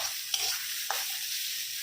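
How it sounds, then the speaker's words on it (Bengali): Onion fries in a pan, a steady close sizzle broken by two sharp scraping strokes of a spatula as it is stirred. "ভালো ভালো লাল লাল করে ভাজা ভাজা হোক একটু"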